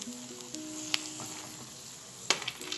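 Dried turkey berries fry in ghee in a pan, making a soft, quiet sizzle with a few sharp clinks and scrapes from stirring scattered through it, close by and with no talking.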